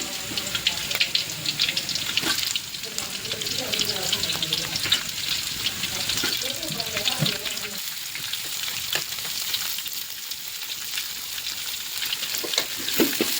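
Onion sizzling and frying in a pan for hotel-style noodles, a steady close crackle with occasional stirring scrapes and clinks, voices faintly under it.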